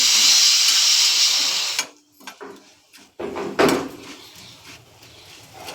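A pressure cooker on the stove gives off a loud, steady rush of hissing steam for about two seconds, then cuts off abruptly, leaving only faint clinks and soft kitchen movement.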